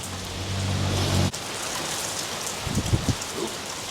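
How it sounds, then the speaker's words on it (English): Rain falls steadily outside with an even hiss of drops on surfaces, near and continuous, with a brief low hum at the start and soft knocks near the end. "watching the rain."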